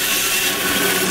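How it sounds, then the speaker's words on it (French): A saw cuts the hat from the body of a small wooden snowman, giving a continuous, close, rasping wood-cutting noise throughout the short moment. "Je peux maintenant couper le chapeau du corps."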